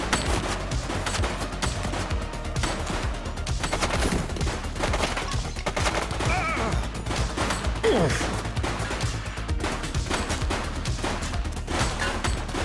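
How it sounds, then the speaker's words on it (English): Rapid gunfire and repeated shots crackle through a video game shootout in The Precinct, dense and continuous over a loud mix of other game sounds. "Shots fired!"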